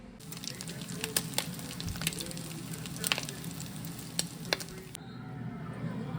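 Crab cakes sizzle steadily in hot oil nearby, a continuous crackle with sharp spits and pops scattered through; the frying stops abruptly near the end.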